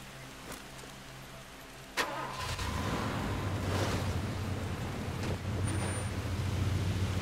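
Car engine in the video game Far Cry 2 catching with a sharp start, then a steady low engine rumble as the vehicle drives off, continuous and fairly close.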